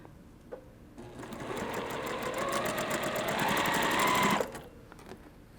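A sewing machine stitches pieced quilt block units together in a rapid, even burst of mechanical clatter lasting about three and a half seconds. It is close and loud, with a faint click before it starts and quiet handling noise after it stops.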